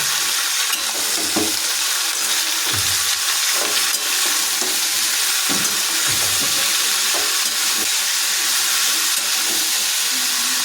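A spatula stirs potatoes and onions frying over a low flame in a pan of winter vegetables, with a constant loud sizzle and hiss and periodic scraping strokes of the spatula against the pan.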